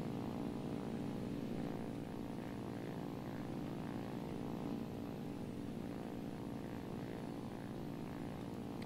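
A Russian propeller plane's engine drones steadily in a flight simulator game, a constant, even hum with no breaks.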